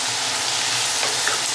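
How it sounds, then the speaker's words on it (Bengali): Frozen vegetables fry in a hot pan, giving a steady, close crackling sizzle with faint stirring scrapes and no pauses. "এটার মধ্যে দিয়ে একসাথে ভেজে"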